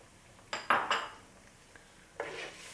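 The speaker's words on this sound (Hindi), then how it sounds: "हिलाएं, अच्छी तरह मिक्स करें।" Metal utensil clinks and scrapes against a pan while white vinegar and soy sauce are stirred together for a sweet and sour chicken sauce, a few sharp knocks in quick succession, then a final scrape, close and clear with no talk.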